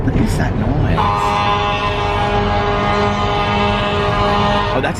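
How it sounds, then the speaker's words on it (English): A fire truck's horn blares long and steady through gridlocked city traffic, loud and close, holding for several seconds over the surrounding street noise and engine rumble. "that's a fire truck trying to get over"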